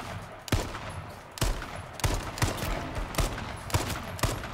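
Gunfire in the H1Z1 battle royale video game: about eight sharp shots at irregular intervals, each a loud broadband crack over a steady noisy background, with no talking.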